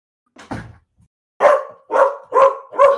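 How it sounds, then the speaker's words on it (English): A dog barks four times in a steady rhythm, loud and close, after a couple of softer yips, with no talking over it. "He's gonna bark, but I'm here."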